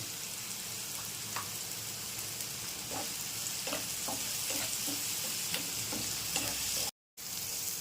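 Onions fry with salt in a pan, giving a steady close sizzle and crackle throughout, with faint scraping ticks from stirring and no talk.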